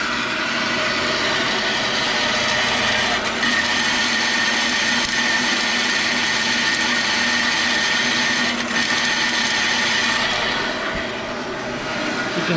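A saw fitted with an 18-teeth-per-inch blade dry-cuts a metal exhaust downpipe for a Datsun 280Z turbo build without coolant, giving a steady, loud, harsh grinding whine that runs unbroken and close for the whole stretch.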